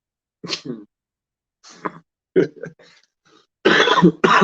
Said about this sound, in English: I still got my cough too